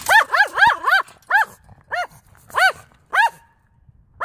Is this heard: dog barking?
yes